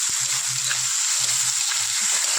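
Prawns fry in fish oil with a dense, even sizzle that holds steady throughout, close to the pan, along with a few low soft knocks from the pan being handled, and no voices.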